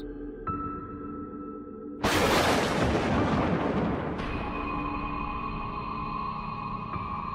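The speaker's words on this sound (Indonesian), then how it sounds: "Saat itu juga terdengar ledakan yang amat keras." A sudden loud explosion bursts over a low droning tone, its roar decaying slowly into a sustained, ringing hum.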